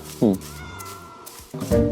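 A cat in Minecraft meows twice, close and clear, the two short, wavering cries separated by a brief pause.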